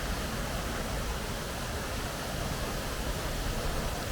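A waterfall in a Japanese park in Osaka pours with a steady, broad rushing hiss, continuous and fairly close, with no voices.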